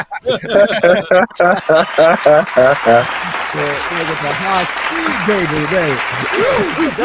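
A canned applause sound effect plays during a Dallas Cowboys draft talk show, a crowd clapping that swells beneath a voice, which talks over it almost throughout.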